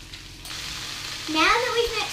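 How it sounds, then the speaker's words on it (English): Cabbage, apple and onion marmalade hit a hot pan and sizzle steadily, with a stirring scrape and a rising tonal squeal near the end, close and fairly loud. "we're going to add the cabbage, the apple and the onion marmalade"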